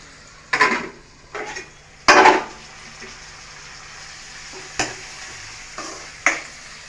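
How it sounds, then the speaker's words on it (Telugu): Prawns fry in oil, stirring and sizzling in a pan, with several sharp bursts of scraping and spattering over a low, steady background hiss. "రొయ్యలు ఫ్రై అవుతున్నాయి ఇంకా బాగా అవ్వాలి"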